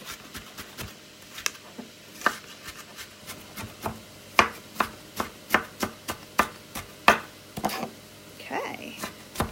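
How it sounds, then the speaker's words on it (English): A knife chops through food on a cutting board during home meal prep, a string of sharp, close taps in an uneven rhythm that quickens and grows louder toward the end, with a soft rub at the close. "And then you just kind of take your knife through it."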